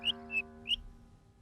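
A little cartoon bird gives three short, bright chirps spaced about a third of a second apart, over soft sustained background music.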